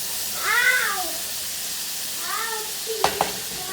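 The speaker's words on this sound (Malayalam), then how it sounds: "പെട്ടെന്ന് തന്നെ ഉള്ളി വഴണ്ട് കിട്ടും" Onions sauté with salt in a pan for a green peas and egg stir fry, a soft sizzle running underneath while a cat meows loudly twice, followed by a couple of quick utensil clicks.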